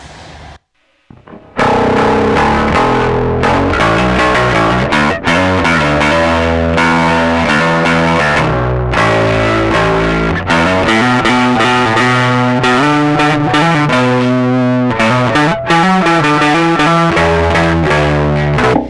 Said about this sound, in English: I have hooked up a Boss Super Overdrive pedal, which is fine pedal, not really for bass.